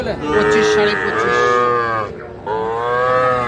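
A young Sahiwal heifer calf moos in two long, loud, tonal calls, the first drawn out over about two seconds and the second starting after a short pause, close by in an open cattle market.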